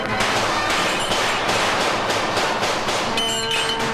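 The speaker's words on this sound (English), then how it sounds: "She's moving her arms as fast as the bullets themselves, so they ricochet off her bracelets." Rapid cartoon gunfire from Amazon soldiers, with bullets ricocheting off Wonder Woman's metal bracelets in a dense, continuous barrage of sharp bursts and metallic pings that stays loud and steady throughout.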